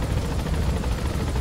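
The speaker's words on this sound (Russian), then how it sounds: "Видимо, вертолет хочет набрать высоту. Ну, вообще, достаточно натурально летит." A helicopter in the video game Metal Gear Solid V, a steady, dense rotor and engine roar that stays loud and unbroken throughout, with no voices over it.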